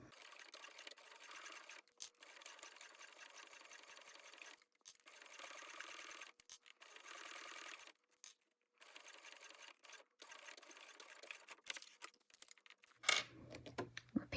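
A sewing machine stitches a strip of binding over the raw edge of clear vinyl in long steady runs, pausing briefly between bursts, with a few handling knocks near the end and no one talking.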